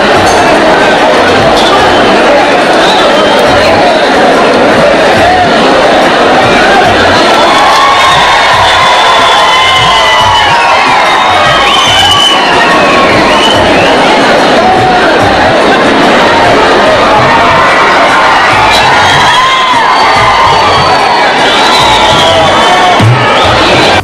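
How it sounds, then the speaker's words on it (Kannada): A large crowd at a public event gathering cheers and shouts over scattered clapping as dignitaries are welcomed to the stage, a loud, sustained roar of voices, whoops and children's cries throughout. "ದಯವಿಟ್ಟು ಎಲ್ಲ ಪ್ರೇಕ್ಷಕ ಬಾಂಧವರು ಜೋರಾದ ಚಪ್ಪಾಳೆ ಮೂಲಕ ಗಣ್ಯರನ್ನ ವೇದಿಕೆಗೆ ಸ್ವಾಗತಿಸಬೇಕಾಗಿ ವಿನಂತಿಸಿಕೊಳ್ತೇನೆ"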